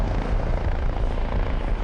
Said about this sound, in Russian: На помощь был вызван полицейский вертолет.